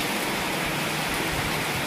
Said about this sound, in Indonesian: Ini hujannya makin deras.